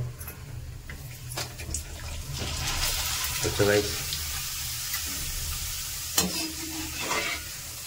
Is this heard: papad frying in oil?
yes